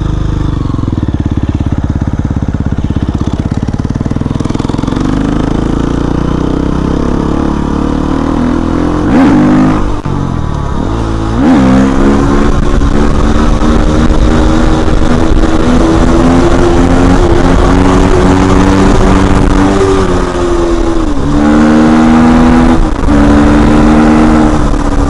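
Simson motorcycle two-stroke engine revving hard and loud throughout, with a brief drop and thump around a jump landing, then continued buzzing acceleration with rising and falling pitch, no talk.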